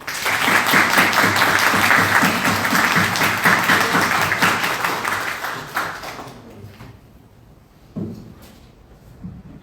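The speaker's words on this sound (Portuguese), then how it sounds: "Uma salva de palmas para o Hernando." Audience applause at a centenary tribute event at the Academia Paulista de Letras, a dense burst of many hands clapping loudly for about six seconds, then fading away to scattered claps and quiet room noise.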